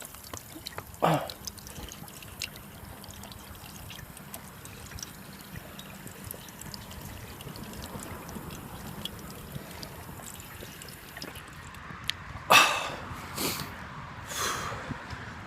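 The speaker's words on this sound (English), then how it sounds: "I'm gonna grab a drink real quick" Water being drunk from a container, with a faint slosh near the start and audible gulps and swallows toward the end, close and quiet over a low background hum.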